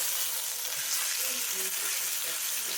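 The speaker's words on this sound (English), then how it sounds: "You want those round bits, so this is why they say aggressively fry them." Beef shank pieces frying aggressively in a pan give a loud, dense, continuous sizzle close up, with faint stirring sounds underneath and no talk.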